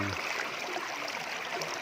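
Floodwater from the Mun River rushes over a bridge, a steady broadband roar of flowing water heard close and continuous throughout.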